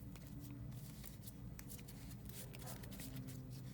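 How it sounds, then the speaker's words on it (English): A Cardfight Vanguard trading card deck being shuffled by hand, a faint, steady papery riffling that runs continuously for a few seconds without speech. "We're going to shuffle."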